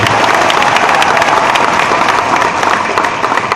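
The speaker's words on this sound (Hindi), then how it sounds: "कम ताली बजा रहे हैं आप तुम लोग" An audience claps at a political speech by Vishvas Sarang, a loud, dense, continuous wash of hand claps from a large crowd with no voices over it.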